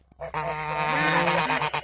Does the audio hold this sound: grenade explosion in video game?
no